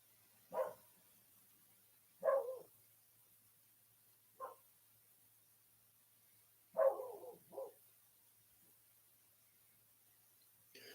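Dogs bark down the road, faint and distant, five scattered single barks spaced a second or two apart over a quiet, still background.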